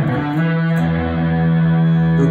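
An electric guitar plays through a strong overdrive pedal, one of several boutique pedals such as the Xotic AC RC, JHS Sweet Tea or Maxon. A loud, sustained distorted chord holds steadily throughout.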